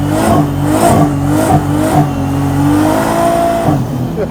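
A car drives past with a loud, throaty engine that revs and surges in several pulses, close and dominant throughout.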